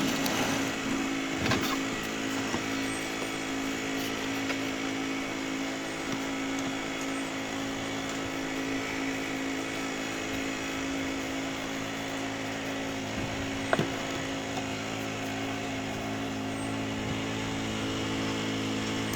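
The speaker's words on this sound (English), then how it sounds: "The noise you can hear in the background, that's the neighbour to my right with his little mantis." Small Mantis tiller belonging to a neighbour, droning steadily in the background at a constant, unbroken level, with a single faint knock partway through.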